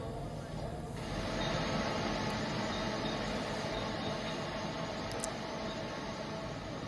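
A passenger train runs along a railway track in a steady, continuous rumble with rolling wheel noise and a faint high squeal, heard at a moderate distance throughout.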